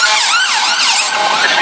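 An ambulance siren wails outside, its rising and falling electronic tone sweeping repeatedly and loud for the whole short stretch.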